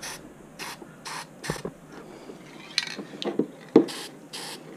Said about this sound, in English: the little openings in the motor, just give it a little spray